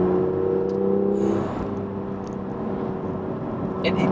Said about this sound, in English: I'm not sure if that's the sports exhaust or not on this car, but it just sounds exquisite.